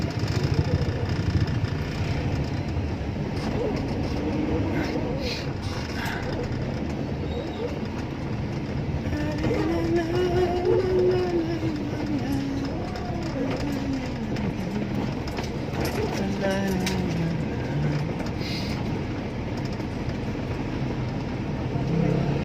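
Street traffic with motorcycle engines passing on a school run, a continuous rumble of engines and road noise with rising and falling revs, fairly close, with a voice talking faintly now and then.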